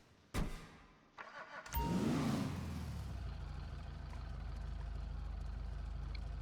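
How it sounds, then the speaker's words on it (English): A Dominator muscle car in GTA starts with a sharp crank, then settles into a steady, loud, low rumbling idle that holds evenly to the end. "Oh, you see the engine idle. Nice sound, nice sound."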